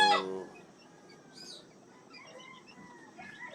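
A fighting rooster gives a short cluck at the start, followed by quieter, softer chicken sounds against a calm background.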